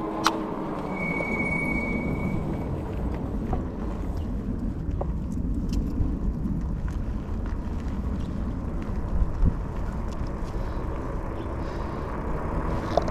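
A Senada Saber Pro 1000W electric fat-tire bike climbs uphill on throttle alone, giving a steady low rumble of motor and knobby tires on the ground, with a few faint clicks and rattles along the way.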